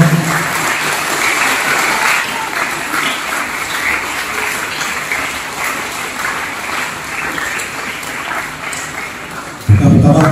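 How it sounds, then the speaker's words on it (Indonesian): A hall audience claps continuously at a national month closing ceremony in Malaysia, a loud, even patter of hands lasting about ten seconds before a voice abruptly cuts in at the very end. "Beri tepukan kepada semua yang berkuasa."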